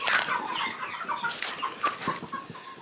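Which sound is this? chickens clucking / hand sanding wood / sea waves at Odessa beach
chickens clucking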